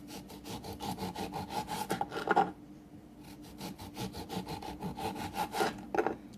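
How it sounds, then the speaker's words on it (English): A knife slicing a lemon into very thin slices, close and rhythmic rasping strokes in quick succession with a brief pause midway. "Slice about 3 lemon slices,"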